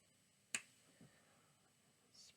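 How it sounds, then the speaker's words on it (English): A single sharp finger snap rings out close and crisp in a quiet room during a card trick, followed by faint small shuffling sounds. "So then you snap your fingers"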